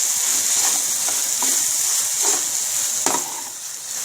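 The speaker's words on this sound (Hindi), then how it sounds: "मसाला हमारा अच्छी तरह भुन गया" Spice masala frying in a pan for white lobia curry, a steady broadband sizzle running throughout with a few faint stirring clicks, close and continuous with no talking.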